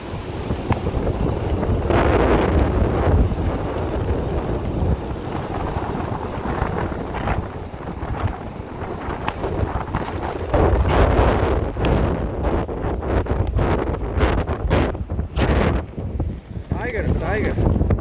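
Strong wind buffets the microphone outdoors in the Scandinavian wilderness, a steady loud roar with gusty surges that persists throughout, hikers walking into a rainy headwind.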